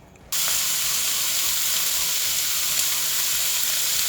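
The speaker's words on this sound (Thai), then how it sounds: "เดี๋ยวเราตั้งกระทะให้ร้อน อันนี้เราไม่ต้องใช้น้ำมันนะฮะเดี๋ยวเอาเบคอนลงไป" Bacon with no oil hits a hot pan with a sudden loud sizzle that settles into a continuous, crackling hiss.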